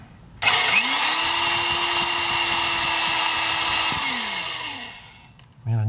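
A power drill whirs at a steady high pitch for several seconds, spinning up and winding down, close and loud.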